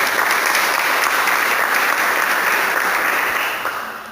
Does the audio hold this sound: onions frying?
no